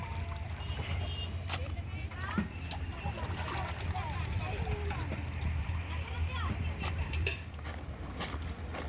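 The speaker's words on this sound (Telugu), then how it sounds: "అందుకే పొయ్యి మీద ఉల్లిపాయలు వేసుకొని మంట సిమ్లో పెట్టి చికెన్ని శుభ్రంగా నీళ్ళతో కడుగుతారు." Large pieces of chicken for a function-sized curry are washed in water, with steady splashing and sloshing that runs continuously beneath people talking.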